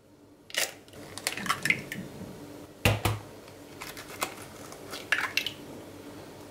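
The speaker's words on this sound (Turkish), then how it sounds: "2 adet yumurta kırıyoruz." Two eggs cracked while cooking a tomato omelette with onion, giving sharp taps and cracks against a hard edge followed by wet squishy sounds, close and clear with no talking.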